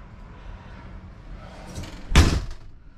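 A door in a 2015 Forest River Wildwood 28DBUD travel trailer with vinyl flooring is shut with a single sharp slam and thud near the end, after a quiet stretch of faint shuffling.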